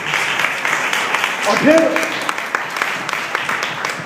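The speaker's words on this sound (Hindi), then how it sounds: "तालियां बजाइए इस बात के लिए।" A church congregation claps during a sermon, a steady spatter of applause running under a man's brief speech.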